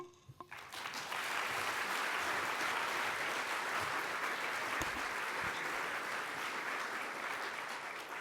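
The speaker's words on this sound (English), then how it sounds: "they deserve all of that applause" Sustained audience applause at a family conference morning session, rising after a brief quiet start into steady, full clapping from a large crowd that continues evenly to the end.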